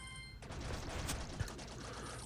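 Rapid projectile firing in Archero 2, a fast steady stream of soft overlapping shots running continuously after a brief quiet start, fairly faint and mechanical in texture.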